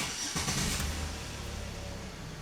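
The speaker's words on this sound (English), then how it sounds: "I'm going to start the engine so we can confirm the customer's complaint" A Chevy Impala engine cranks and catches with a brief burst, then settles into a steady, quiet idle heard close up without talk.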